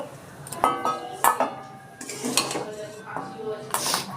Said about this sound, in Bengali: আমার সুজিটা রান্না হয়ে গেছে এবার আমি সুজিটা নামিয়ে নিচ্ছি